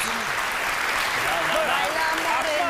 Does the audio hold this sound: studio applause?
yes